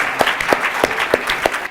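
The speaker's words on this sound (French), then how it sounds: "On va quand même applaudir les deux équipes" Studio audience on a French TV game show applauding both teams, with loud, close claps in a brisk rhythm over a brief burst.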